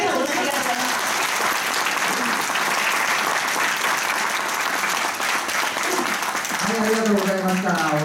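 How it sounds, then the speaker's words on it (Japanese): Audience at a political town-hall gathering on nuclear power gives sustained, dense applause, a continuous roar of many hands filling the room, with a voice speaking over it near the end. "もう一度大きな拍手をありがとうございます"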